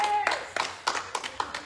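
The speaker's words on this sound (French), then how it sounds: "Et vous pouvez vous applaudir." Small group clapping after a trampoline-free fitness class, a quick burst of scattered hand claps that thins into a few separate claps, close and fairly soft.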